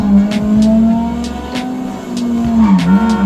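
Car driving in the video game GTA V, with a steady engine drone that shifts pitch as it accelerates, punctuated by short sharp clicks and bursts, loud and close with no speech.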